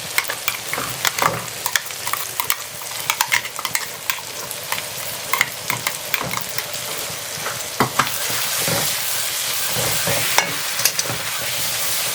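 Onions and tomatoes sauté in a pan for a traditional murungai keerai (drumstick leaf) sambar, a steady sizzle close by broken by frequent scraping stirs and clinks, with the frying growing denser toward the end.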